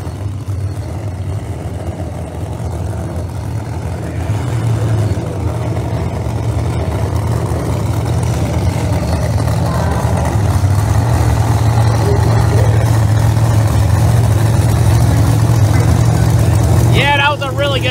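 Pro Mod drag racing cars, one ProCharger and one screw blower, roar during qualifying with a loud sustained engine rumble, heavy and continuous, with voices talking over the noise.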